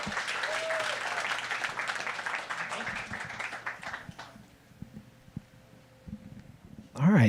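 Audience applause welcoming a speaker to the stage at a Nerd Nite talk evening, a dense steady wash of clapping that thins out and fades toward the end, followed by a brief loud burst of handling noise.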